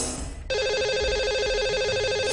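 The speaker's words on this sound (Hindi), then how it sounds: "चलिए उनका नंबर लगाते हैं।" Telephone line ringing out while calling a caller on a live call-in show, a repeating electronic ring tone starting after a brief moment and continuing steadily, clear and moderately loud.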